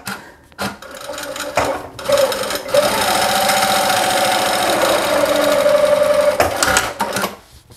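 Sewing machine stitching around a small fabric phone bag, a close, rapid mechanical chatter in short bursts then a long steady run, with brief pauses between.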